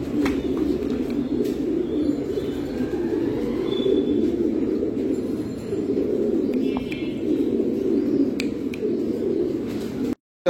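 Danish pigeons cooing steadily in a loft, a continuous low warbling murmur from several birds close by, with occasional faint chirps over it.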